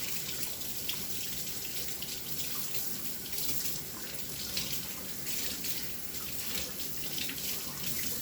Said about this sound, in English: Let me just rinse them off real good.